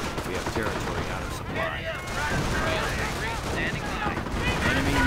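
Mortar rounds and gunfire rattle through a video game battle, dense overlapping shots and dull explosions forming a continuous busy din, with chirping effects layered on top.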